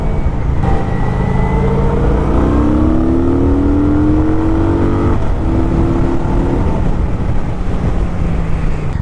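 Kawasaki Vulcan 900 motorcycle engine, 2021 model, heard riding with a loud continuous drone whose pitch rises and falls through gear changes, under wind buffeting.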